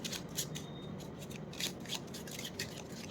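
Small affirmation cards being shuffled by hand, a steady run of soft papery riffles and flicks, close and fairly quiet, with no voice over it.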